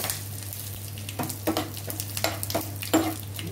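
A tempering of garlic, cumin, red chilli and curry leaves sizzling in hot oil for a Hyderabadi raw mango dal, a crackling fry with several distinct spoon scrapes and a low steady hum beneath.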